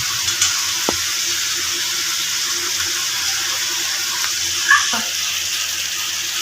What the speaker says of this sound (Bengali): আমি এখানে জলটা দিয়ে দেবো